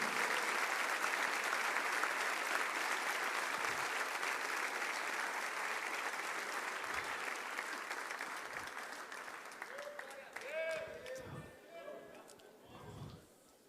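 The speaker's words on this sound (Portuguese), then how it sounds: "Vamos aplaudir forte" Sustained applause from a church congregation at a worship service, loud and dense at first, then gradually thinning and fading, with scattered individual claps and voices emerging near the end.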